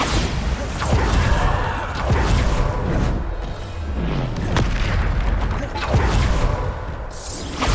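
Bombarda blasting spells explode again and again during a Hogwarts Legacy challenge battle, loud booming bursts repeating every second or so amid dense game effects and clatter.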